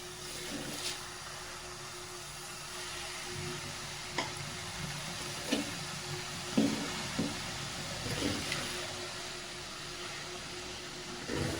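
Leafy greens fry in a hot wok, a continuous close sizzle with a few soft stirring knocks and clicks, and no talk.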